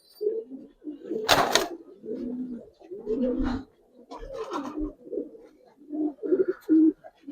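Giribaz pigeons cooing in a series of soft, throaty low coos, close by, with a few sharp rustling bursts of wings or handling between them.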